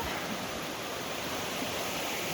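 A river flowing beneath the Three Forks bridge gives a steady, broadband rush of moving water, even and continuous throughout with no voices.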